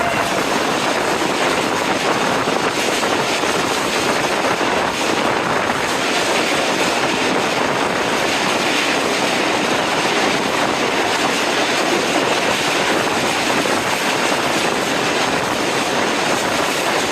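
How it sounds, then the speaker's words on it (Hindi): The 146 Down Sukkur Express passenger train passes the station, a steady, loud broadband rumble and roar that holds without a break, close by, with no voices. "146 डाउन सक्कर एक्सप्रेस"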